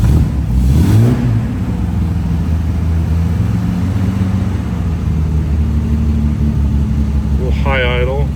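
1962 Austin Healey 3000 BN7 engine running at a high idle, a steady close low rumble throughout, with a brief rise at the start and a voice speaking at the end.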